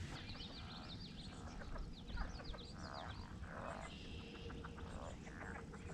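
A chorus of frogs croaking along the water's edge of Chickamauga Lake in spring, steady and moderately distant, with rapid chirping calls layered over a constant outdoor background.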